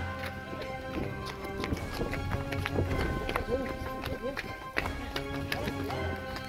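A horse running at a farm, its hooves clip-clopping in a steady, fairly loud rhythm while people talk over it.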